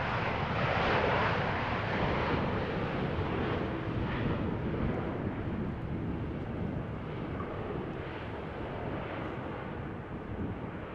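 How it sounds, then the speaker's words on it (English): An EasyJet A320 airliner lands at Amsterdam Schiphol Airport in gusty post-storm weather, producing a continuous broad roar of engine and airflow noise that stays loud and steady throughout, mixed with wind buffeting the microphone. "our next landing airplane is EasyJet A320, arriving from Milan"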